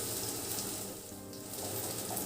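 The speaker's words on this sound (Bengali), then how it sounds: "আদা রসুন কাঁচা লঙ্কা তেলের মধ্যে নাড়াচাড়া করে ভেজে নেব" Ginger, garlic and green chilli frying in oil, making a steady close sizzle with a soft bubbling crackle throughout; no talking.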